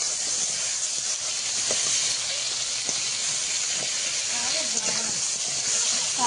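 Crabs fry in a covered pan with a little water splashed in, giving a steady, loud hiss and sputter that runs unbroken throughout.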